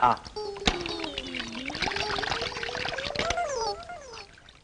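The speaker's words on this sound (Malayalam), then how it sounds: "പിന്നെ വെള്ളം വീഴുന്നോ? അതെ, പൈപ്പ് മുട ഞാൻ മറന്നു പോയതായിരിക്കും." Bathroom tap left running, water pouring and splashing steadily beneath a person's voice that carries over it for most of the stretch.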